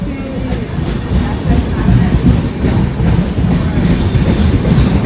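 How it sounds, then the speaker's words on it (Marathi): A train arriving at a station rumbles loudly nearby with steady rail noise and faint clacking, continuous throughout, with indistinct voices mixed in. "बघा बघा ट्रेन आली आहे"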